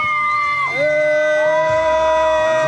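A loud fairground crowd at the Radvanský jarmok shouts and cheers on request from a ride's announcer, a dense sustained roar of voices with rising whoops, close and continuous over music-like tones.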